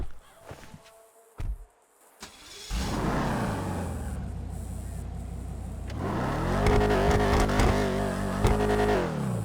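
A Declasse Vigero ZX car engine in Grand Theft Auto starts after some faint clicks, then idles and revs up strongly, growling loud and close.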